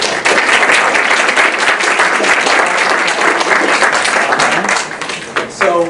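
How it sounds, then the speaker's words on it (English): An audience in a school program applauds with dense, loud clapping that carries on for several seconds and then begins to fade, and a voice speaks briefly at the close. "So I really want to give a big round of applause for them."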